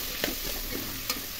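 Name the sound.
chopped ivy gourd (tindora) cooking in spices in a pan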